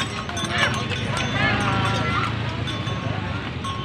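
A horse pulls a delman carriage, its hooves clip-clopping in a steady rhythm beneath close voices and chatter.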